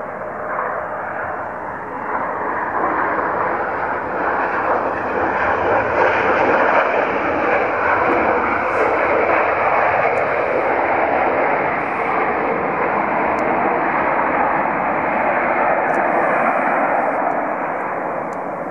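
Antonov An-124 cargo aircraft arriving and landing at YYC airport, a loud, sustained broadband engine roar that swells slightly and holds steady throughout, with no talk.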